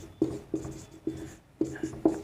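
Chalk or marker writing on a classroom board during an accountancy lesson gives a series of short tapping strokes in an uneven rhythm, close and moderately quiet, with no talking.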